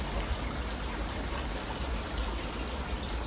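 Heavy rain pouring down steadily outdoors, a dense, continuous hiss with low rumbling underneath, constant and fairly close with no voices.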